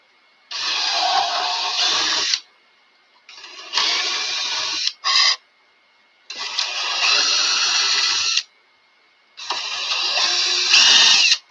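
Power drill boring a 1/4 inch hole through a model airplane wing for a 1/4-20 bolt, four loud close bursts of whirring with short pauses between them and a brief blip in the middle.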